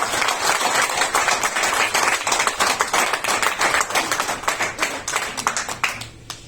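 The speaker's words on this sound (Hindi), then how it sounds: "एक बार ताली बजाएंगे जोरदार" An audience claps loudly and continuously at a talk on LIC insurance, a dense even applause that fades out near the end.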